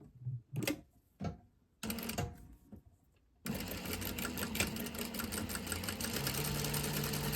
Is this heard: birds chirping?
no